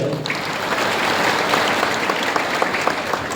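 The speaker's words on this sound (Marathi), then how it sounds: "एका जोरदार टाळ्या वाजवायच्या" Audience clapping steadily at a Krishna Urban Bank online service launch ceremony, a dense, continuous round of applause from a crowd, fairly close and loud for its whole length.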